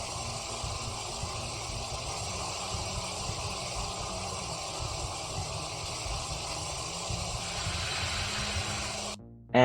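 A pipe leak effect built for a Roblox game gives a continuous hissing spray that runs for almost ten seconds, its texture shifting partway through before a brief abrupt change at the very end.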